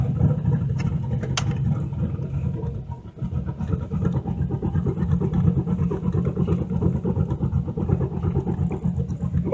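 A 1986 Chevrolet Caprice with an LS turbo swap idles rich and a little unevenly, a close, steady low engine burble with a faint high tick near the start and no voices.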